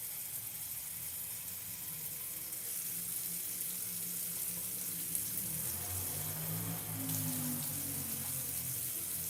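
Water runs from a kitchen tap into a small pot, a steady soft hiss and splash with the pitch shifting slightly as the pot fills, fairly faint and without talk.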